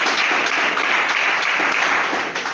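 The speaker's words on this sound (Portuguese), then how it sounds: "Se assente batendo palmas bem forte para Jesus" Church congregation claps loudly and continuously for a couple of seconds, a thick, even roar of many hands with no talking over it.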